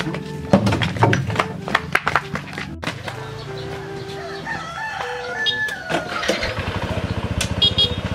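A motorcycle engine in a Balinese village setting, revving and passing close by amid rooster crows and clucking chickens, with the motor droning louder toward the end.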